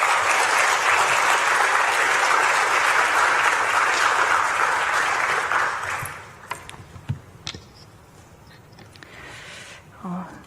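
A church congregation at a Sunday evening service bursts into loud, sustained applause that fills the first six seconds, then drops away to scattered claps and light room noise.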